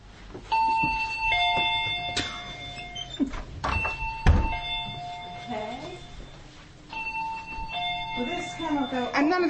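Electronic doorbell chiming in a pub, repeated ding-dong tones ringing over several seconds, close and clear, with people talking and moving around it.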